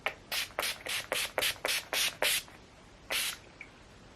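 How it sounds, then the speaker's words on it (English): Nine quick hissing spritzes of Urban Decay All Nighter setting spray onto a face in a steady rhythm, a short pause, then one more spray, close and fairly soft. "I'm just gonna set my face with All Nighter setting spray"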